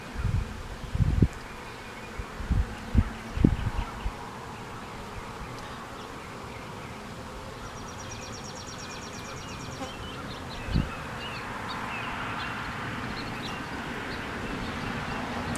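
Honeybees buzz around an open hive during a nectar flow, a steady near hum with a few louder bumps and handling knocks in the first seconds.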